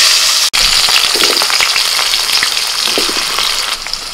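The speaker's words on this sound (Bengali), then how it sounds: "কড়াইতে আবার একটু তেল দিয়ে এবার ওর মধ্যে আমি খিচুড়ির সবজিগুলোকে ভেজে নেব।" Vegetables for khichuri, such as potatoes, sizzle steadily in hot oil in a wok, a dense, continuous frying hiss with faint stirring scrapes.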